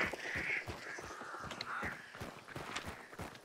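Crows perched on a fence caw in the video game Hunt: Showdown, several rough calls at moderate distance mixed with footsteps.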